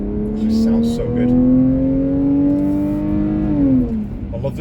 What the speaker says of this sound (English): you can just hear the engine note, the perfect engine note